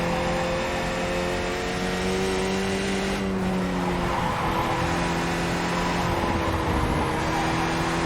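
A race car engine roars loudly at close range, the pitch rising and falling as the car slides through a corner with tire squeal during a tight race.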